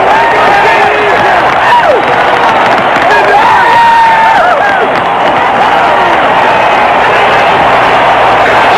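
A packed Cleveland Municipal Stadium crowd roars and cheers steadily at the 1981 All-Star Game after Singleton's home run, with dense whoops and applause sustained throughout.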